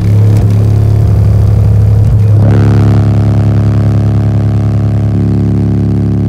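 A 35 Hz bass test tone through car audio subwoofers driven by a Marts Digital MXB-8000-1 amplifier: a loud, sustained low hum with rattling and buzzing resonance, a brief surge early before settling into a steady drone.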